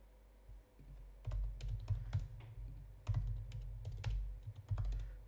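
Computer keyboard typed on in a terminal, with a quick series of close, crisp key clicks in irregular bursts and brief pauses between them.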